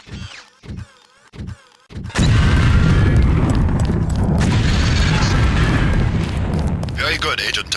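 Lamp detonating during demolitions training in the video game Deus Ex, a few soft thuds and voice-like sounds, then a sudden loud booming explosion that roars and rumbles steadily for several seconds.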